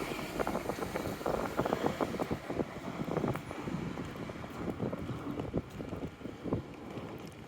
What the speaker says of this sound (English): it's too windy to make a video